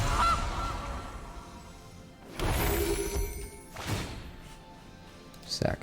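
A goose honks as its card is played in the MTG Arena digital card game, with several loud, separate game sound effects spread over a few seconds against background music.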